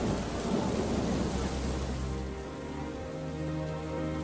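A huge thunderstorm breaks over a stadium during a rugby World Cup semi-final in South Africa, with loud rumbling thunder over heavy, steady rain that continues as the rumble fades.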